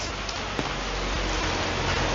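Continuous heavy rain pours steadily over a village during monsoon, a dense unbroken hiss close by with no gaps and one brief sharper tap.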